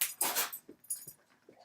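Pregnant dog indoors in a busy house, making a few soft, short whimpers close by, mixed with light rustling and jangling at the start.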